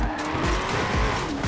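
A Chevrolet Camaro races and overtakes in Forza Horizon 4, its engine roaring loud and close with tyre squeal and skidding across the whole stretch, with no talk over it.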